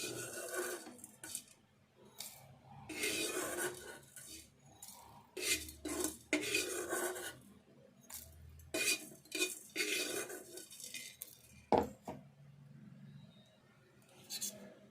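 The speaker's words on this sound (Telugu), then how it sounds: "ఇవి మిక్సీ జార్లో తీసుకుందాము." Fried garlic and spices for a garlic masala egg fry are tipped and scraped into a mixer jar, with repeated close metallic spoon clinks and scraping in bursts, and no talking.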